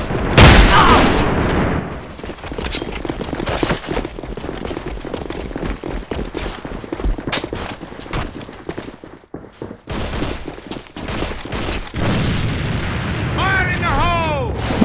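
Grenade blasts and gunfire in the online shooter AvA during a clan match, with repeated loud explosions and rapid shots throughout, heavy bursts at the start and again near the end, and players talking over the fighting.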